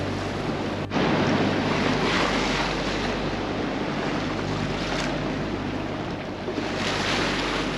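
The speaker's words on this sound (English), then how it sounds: "Dang, those waves are scary in front of us." Ocean waves surge and wash ahead of a cruising sailboat in the US Virgin Islands, a steady loud roar of surf mixed with heavy wind buffeting the microphone throughout, with a brief dip near the start.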